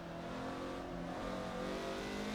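Caterham Superlight 5 engine on the Nordschleife, a steady loud drone held at high revs with a continuous harmonic buzz and no talking.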